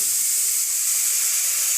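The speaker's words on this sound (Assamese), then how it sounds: "ইয়াত মই নাৰিকল আৰু চেনি যিখিনি মিক্স কৰি থৈছিলো এইখিনি এতিয়া মই অলপ ভাজি লম" Coconut and sugar frying in a hot kadai give a steady, close, continuous hiss and sizzle with no talk.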